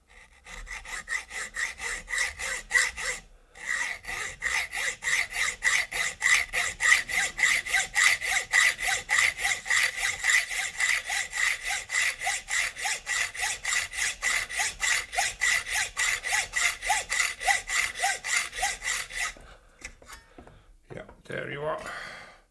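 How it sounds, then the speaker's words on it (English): Hacksaw cutting through a metal rotary vane compressor shaft, with fast, even back-and-forth rasping strokes that run loud and close for about fifteen seconds after a brief pause, then stop. "And then I just cut it. With a hacksaw, of course."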